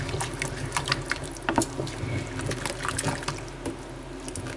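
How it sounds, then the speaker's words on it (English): Flour stirred into beef stroganoff broth in a pot, wet sloshing and gentle scraping strokes with irregular rhythm, close and moderately quiet, without talk. "I'm going to stir that really well."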